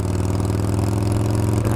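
A Billy Lane hubless chopper motorcycle idles nearby with a steady, deep, loping engine rumble, loud and even throughout, with no talking.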